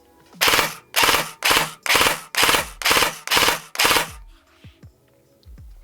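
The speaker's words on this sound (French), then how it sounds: "j'ai un burst de 3 en full" Airsoft AR15 electric gun with an ETU fires in full auto, giving eight sharp, loud bursts in steady rhythm, followed by faint mechanical clicks once the shooting stops.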